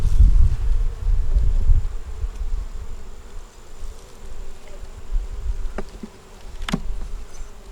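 Bees buzz in a steady low drone around a deep nuc hive that has been robbed out, leaving few bees and a queen, with faint rustling and a couple of brief sharp clicks near the end.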